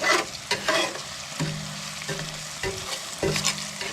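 Ingredients for a seafood stuffing sizzle steadily in a pan while a utensil stirs them, with repeated scraping knocks against the pan over the continuous frying hiss.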